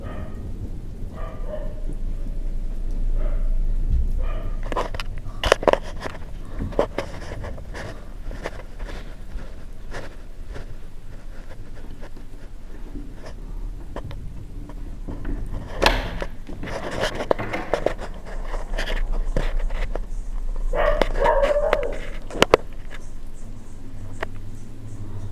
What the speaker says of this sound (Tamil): வெளியே நாய் கத்துறது உங்களுக்கு கேட்குதா?